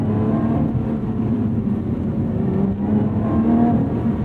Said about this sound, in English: heel toe double clutch these downshifts into second, just to ensure I'm getting a smoother shift